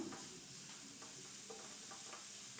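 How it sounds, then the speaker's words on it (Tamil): Finely chopped vallarai keerai (pennywort greens) sizzle steadily in a hot pan while a spoon stirs them in soft, irregular scrapes, close and continuous. "இதையும் நல்லா வதக்கிக்கலாம்"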